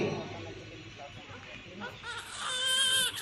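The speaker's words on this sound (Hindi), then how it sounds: "रोने की आवाज आती है।" A newborn baby cries in a thin, wavering wail that rises near the end, heard over narration and background music.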